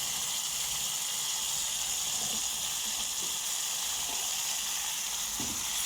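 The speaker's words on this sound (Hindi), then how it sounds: "चिकन डाल के तो आपने चिकन को इसमें बहुत अच्छे तरीके से भूनना है" Chicken frying in a karahi for a gravy dish, giving a loud, continuous close sizzle and hiss with faint crackles throughout and no talking.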